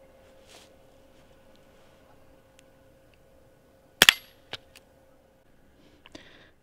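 A .22 Colibri low-powered round fired at a custom Kydex knife sheath gives one sharp, loud crack with a quick metallic ring. A few fainter clicks and clinks follow in an otherwise quiet outdoor range.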